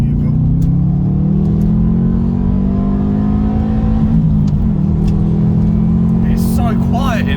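A Subaru car's engine revs in second gear, heard from inside the cabin with the windows up as a loud, steady, rising drone that dips briefly near the middle before climbing again, with brief talk near the end.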